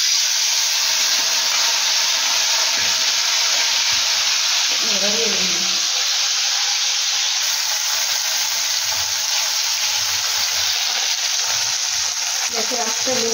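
Small fish sizzle loudly and steadily in a hot wok, a dense crackling hiss that runs unbroken from start to finish at close range.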